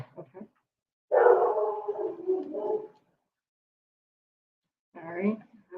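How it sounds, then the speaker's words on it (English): Indoors, an agitated dog gives a drawn-out, whining bark, then another short bark a few seconds later, with brief quiet between. "annoyed dog, apparently"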